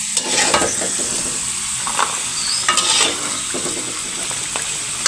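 Tempeh fries in a pan of hot oil, a steady close sizzle with occasional stirring scrapes and clinks, cooked alongside salted fish and jengkol for a Sundanese liwet meal.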